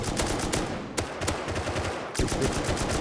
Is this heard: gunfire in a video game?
yes